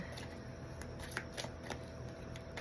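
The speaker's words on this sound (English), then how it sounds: "Shuffle them really, really well." Tarot cards are shuffled by hand in a quick run of soft, papery riffles and flicks, close and quiet, with no voices.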